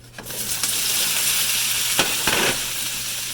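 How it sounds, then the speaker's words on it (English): Steady, loud sizzling of potatoes frying in a hot pan over high heat, with a couple of brief scraping bursts as the pan is moved. "You can hear them sizzling."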